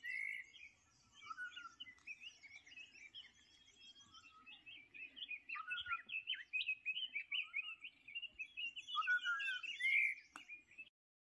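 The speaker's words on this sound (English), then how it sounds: "you will be amazed by the chirping busy birds" Many small birds chirp and tweet busily in a rhododendron forest in the mountains in mid-April, their calls overlapping and growing denser and louder toward the end, with no talk.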